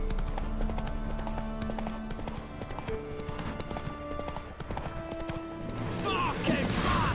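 Hooves of the horse Roach clip-clop in a rapid galloping rhythm in The Witcher 3, with occasional whinnies and a brief rush of other game sound near the end.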